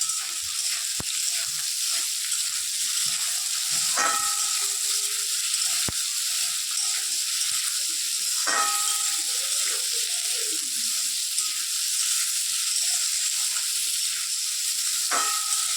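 Boiled potato, onion, chili and garlic fry in a pan in a home kitchen, giving a constant hissing sizzle with a few sharp spoon scrapes and clatters scattered throughout, close and without speech.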